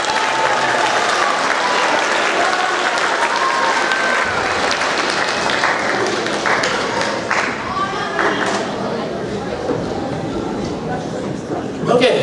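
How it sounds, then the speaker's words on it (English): A crowd at a 7th grade awards ceremony claps steadily in a dense, sustained round of applause lasting about twelve seconds before tapering slightly at the end. "One last round of applause for our quarter 4."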